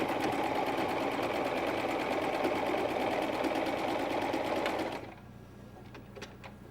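A sewing machine runs a steady, close, loud stitching burst along trouser elastic, including a lock back-stitch, for about five seconds, then stops abruptly, leaving quiet room noise and faint handling clicks.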